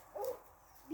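At a country villa, a dog lets out a brief, close, high whining yelp that lasts well under a second, with no one speaking.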